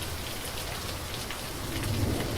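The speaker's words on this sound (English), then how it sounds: "Excuse me, Mr. Thunderstorm, can you lower the volume, please?" A thunderstorm background effect plays as steady, dense rain hiss with low rumbling thunder swelling toward the end, loud and continuous with no voices.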